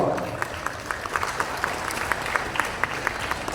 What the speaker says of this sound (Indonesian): Mohon tepuk tangan dong.